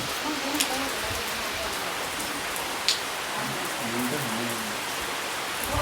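Steady rain pours on a wedding day in the Pahadi hills, a dense even hiss with occasional sharper drips, while people's voices murmur faintly underneath.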